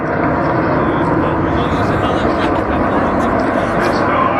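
An Avro Vulcan XH558 bomber flies over Goodwood, a broad, continuous roar of jet engines filling the air at steady loudness, with crowd noise and a commentator's voice over it.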